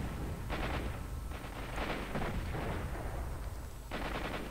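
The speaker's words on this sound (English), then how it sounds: "That was a rocket launcher, not a sniper." Rocket launcher fire in S.T.A.L.K.E.R. Shadow of Chernobyl: several loud, broad blasts and rumbling bursts in close succession over constant background noise, with no talk.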